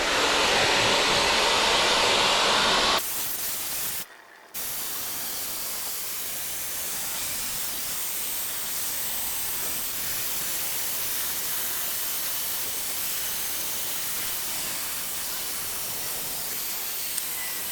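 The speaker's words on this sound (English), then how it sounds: "I went over the front bumper with the hairdryer just to give it a little bit of heat" A hair dryer blows steadily while heating a car's front bumper on a VN SS Commodore, a loud continuous whooshing hiss that drops in tone after a few seconds, cuts out briefly, then resumes and runs evenly.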